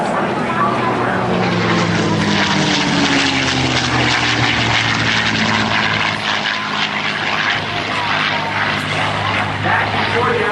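A P-51 Mustang and an F-86 Sabre fly low over an airshow at NAS Oceana, giving a loud, steady propeller and engine roar that holds throughout, with a faint commentator's voice beneath it.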